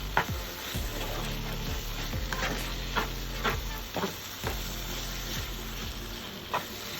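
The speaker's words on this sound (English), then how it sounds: "Everything mixed together, it's ready to serve. Just give final mix" Baigan bharta, a vegan mashed eggplant dish, gets a final stir in a pan: quiet scraping and tapping strokes over a low background hum and faint sizzle.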